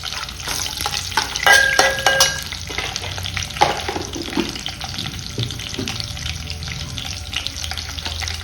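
Fenugreek, mustard seeds and cumin fry in hot oil for a sweet potato sour soup, crackling and sizzling steadily with a few sharp metallic clinks and stirring scrapes early on.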